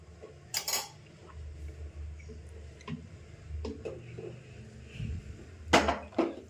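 A utensil stirs sambar made with black-eyed peas in a pot, giving a few scattered metallic clinks and scrapes against a low background hum, with no talking.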